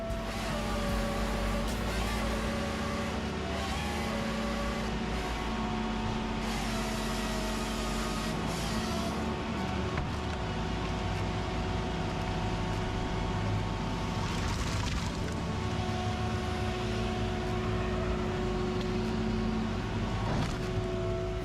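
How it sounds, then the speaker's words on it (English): A John Deere 3156G fitted with a Southstar QS600 processor works through giant trees, its engine droning steadily and loudly throughout with a continuous mechanical hum and occasional harsher bursts. "of processing giant trees in the John Deere 3156G machine. It is equipped with the Southstar QS600 processor."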